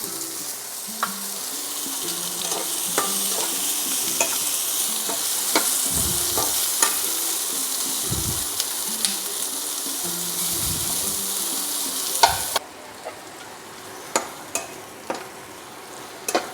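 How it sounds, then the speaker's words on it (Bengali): Ingredients for a mixed five-lentil dal fry and sizzle steadily in a pan while a spoon stirs and scrapes at intervals. The sizzle is close and continuous, then drops quieter near the end, leaving faint, separate scrapes. "হালকা এগুলোকে একটু হালকা করে ভেজে নিয়েছি"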